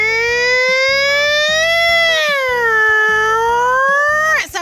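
A voice imitates a fire truck siren, holding a wailing tone that slowly rises and falls, then breaks off abruptly at the end.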